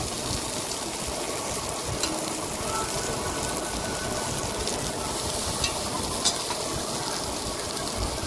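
A spoon stirs coconut rice in a frying pan, giving a continuous close scraping and sizzling hiss with faint clinks, steady and even throughout, with no talking.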